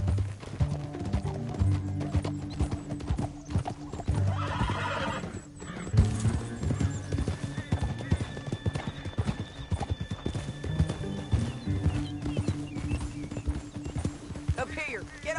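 Horses gallop and neigh in Red Dead Redemption 2, dense clip-clop hoofbeats thudding continuously with a whinny breaking through, while voices talk over the ride.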